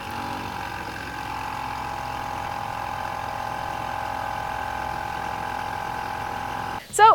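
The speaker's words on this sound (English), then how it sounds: "the air pump certainly sounds, well, a little gassy when you're going down the road." A Pontiac Aztek's electronic level control air pump runs while the car drives down the road, producing a steady buzzing, humming drone with faint rattling that holds for several seconds before a brief louder burst at the end.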